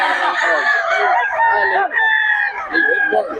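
A young gamecock stag crows loudly and close by at a Philippine cockfighting market, its harsh drawn-out calls repeating with slight breaks while people talk faintly in the background.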